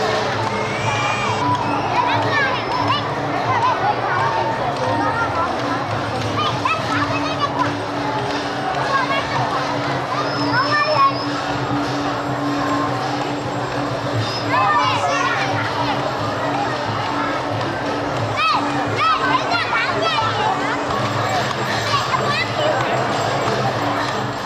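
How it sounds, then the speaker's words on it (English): A large crowd cheers steadily at a Burmese paper fire-balloon festival, a dense, continuous roar of voices with children's shouts and chatter rising above it throughout. "And the crowd is cheering madly."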